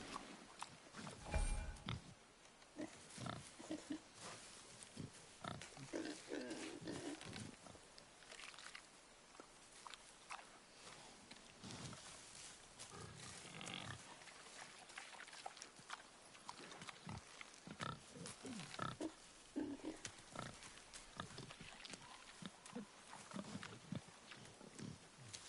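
A boar in the game God of War grunts and snorts in repeated rough bursts across a quiet, busy game soundscape with soft footsteps, the animal fairly close but low in level.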